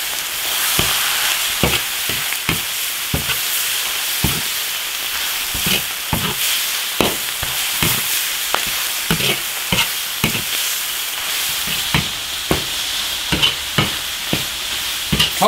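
Spicy duck tongues stir-fry in an iron wok under a continuous hot sizzle, with frequent irregular clacks and scrapes of a spatula tossing them against the metal, near and busy, with no one talking throughout.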